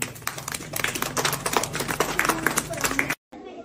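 Children clap together in a dense, irregular patter of applause, fairly close, cutting off abruptly near the end.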